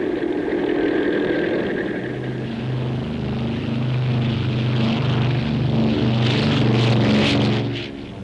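Wartime propeller planes of the U.S. 14th Air Force flying missions over China, a steady droning engine hum with low throbbing tones that holds throughout and swells slightly louder toward the end.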